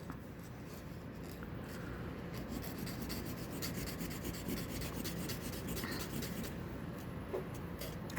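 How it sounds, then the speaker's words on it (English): A piece of thrift-store vintage jewelry is scratched against a coarse testing stone in a continuous gritty, rasping rub that stays up close and at a steady level for several seconds. "I'm putting it against the stone, and I feel like, oh, it feels very coarse"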